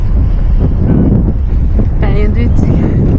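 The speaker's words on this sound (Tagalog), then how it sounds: "Mahangin pa." Steady wind blows outdoors on a cold day, a constant rushing buffet against the microphone throughout, with a brief voice-like tonal sound near the end.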